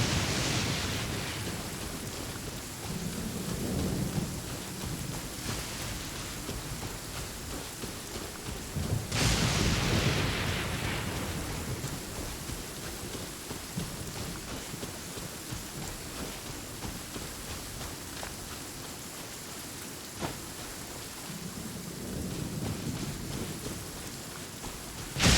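Steady rain hiss fills a stormy scene in Genshin Impact, with low thunder rumbles rolling in at intervals, one sharper crack near the middle, all continuous and fairly distant with no talk.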